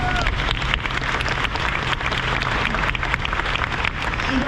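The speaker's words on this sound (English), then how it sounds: "And let's give them a round of applause." Audience applause at the Corvette Assembly Plant during the 2026 Corvette ZR1X reveal, a dense, sustained clapping from a sizeable crowd filling the space evenly, loud and continuous with no voices standing out.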